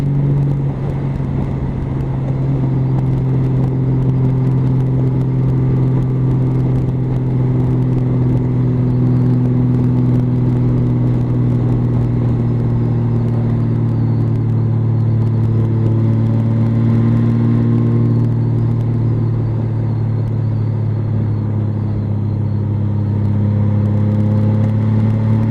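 A Honda Valkyrie motorcycle, just back from major repairs, rumbles steadily while being ridden, its engine note loud and close with a sustained low drone and slight shifts in pitch throughout.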